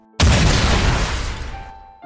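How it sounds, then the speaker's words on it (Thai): A single loud boom rings out as a sound effect in a narrated story, a sudden heavy explosion that roars and then slowly dies away. "การระเบิดอันรุนแรงระเบิดขึ้นซ้ำอย่างไม่ได้จบแค่ลูกเดียว"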